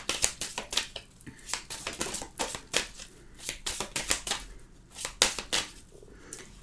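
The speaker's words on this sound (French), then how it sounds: "je vais remélanger les cartes." Tarot cards being reshuffled by hand, a close, quiet run of rapid riffling and slapping bursts in an irregular rhythm with no talking.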